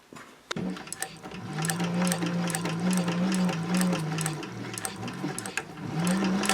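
A sewing machine runs close up, stitching a seam on a fabric caddy in steady humming bursts with brief pauses, its rapid needle ticks clear after a sharp click at the start.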